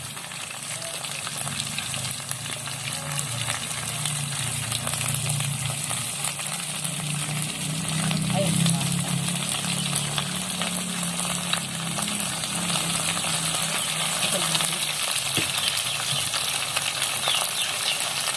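Continuous loud sizzling and crackling of fish frying in hot oil, close up, with a low background murmur throughout.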